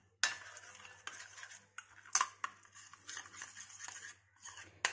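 A spoon clinks and scrapes in a bowl while a banana facial pack is mixed with Patanjali almond oil, giving quiet, irregular taps and short scraping strokes with pauses between them, close and fairly soft.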